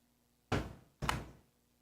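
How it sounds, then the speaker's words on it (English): A locked door in a video game rattling without opening, heard as two separate dull knocking thuds about half a second apart, close and fairly loud, with no one speaking. "I'm trying to get through the door. I can't get through it."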